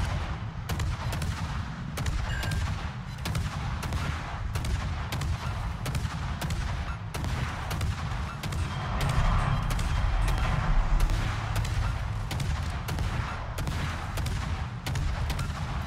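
Naval guns firing in World of Warships, a tier 9 destroyer ranked battle, with repeated heavy booming salvos at a fairly regular rhythm over a constant low rumble, loud and close.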